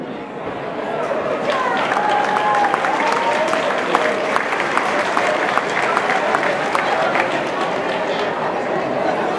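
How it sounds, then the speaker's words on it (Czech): At a Czech school-leaving ball, the audience claps to welcome a guest from Venice onto the stage, steady crowd applause over a murmur of chatter and a presenter's voice. "Prosím, pomožte mi svým potleskem přivítat Jardu"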